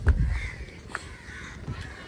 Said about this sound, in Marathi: मोर नाही हो, कावळे